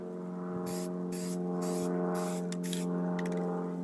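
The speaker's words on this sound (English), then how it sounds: "set the leaf patterns down and then spray over them" Repeated bursts of spray-paint can hissing over leaf stencils, several short passes in a row, close by over a steady low hum.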